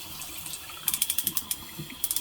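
A waterfall-style bathroom faucet runs hot water into a sink, giving a steady close splash overlaid with a quick series of sharp clicking ticks.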